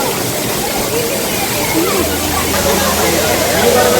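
Sundi (Savati Vazar) waterfall plunging from about 40 feet, a loud, steady roar of falling water, close and constant, with a voice speaking over it.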